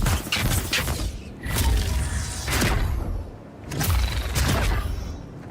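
Magic wand attacks in the fantasy game Avowed: repeated forceful thuds and whooshing bursts arriving in rough waves about a second apart, loud and close with mechanical clatter between.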